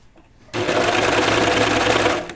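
A sewing machine runs a short burst of stitches through a knit t-shirt, starting abruptly after a quiet moment and whirring rapidly and evenly close by before easing off at the end.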